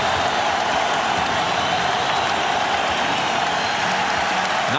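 An arena crowd at the Staples Center cheers and applauds during Game 6 of the 2000 NBA Finals, Lakers hosting the Pacers, a dense, steady roar that fills the whole stretch without a break.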